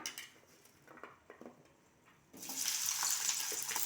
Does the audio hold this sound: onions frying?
yes